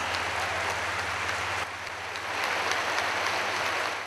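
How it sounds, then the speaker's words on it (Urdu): An audience applauds steadily at a Pakistani government ceremony where Prime Minister Shehbaz Sharif launches a youth laptop scheme, a dense, continuous wash of clapping under a low hum, with no talk over it. "آپ کی بھرپور تالیاں خواتین و حضرات."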